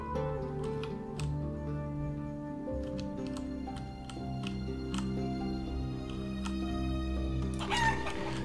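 Barnyard fowl in the village-building game Life is Feudal: Forest Village, with a rooster crowing and hens clucking over a sustained tonal music bed, scattered sharp ticks, and a louder crow near the end.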